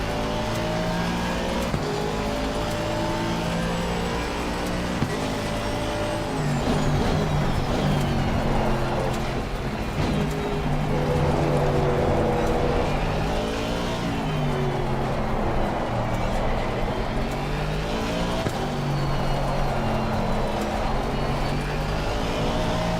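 Race car engines in the Assetto Corsa Competizione game, a continuous loud roar with rising and falling revs through gear changes, several cars running close together.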